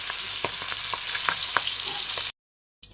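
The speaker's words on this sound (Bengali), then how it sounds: "মাছগুলো উঠিয়ে নিচ্ছি ফুলকপিগুলো বাজি করে উঠিয়ে নিই" Fish and cauliflower pieces fry in a hot pan with a steady, loud sizzle and a few sharp crackles, then the sound cuts out abruptly before a brief return at the very end.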